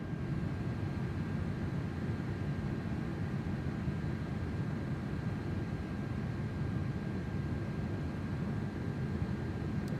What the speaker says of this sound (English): The sounds are pretty mid on this airplane